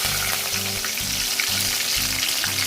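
Curry leaves frying in hot oil for a Chettinad crab gravy, giving a steady, loud sizzle that runs through the whole stretch with a faint rhythmic stirring pulse underneath and no talk.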